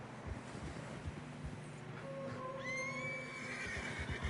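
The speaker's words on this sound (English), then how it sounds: "Horses are getting tired." A tired horse on a narrow snowy trail gives a clear, drawn-out whinny that rises and wavers, heard at moderate distance over steady wind and soft hoof or footstep thuds.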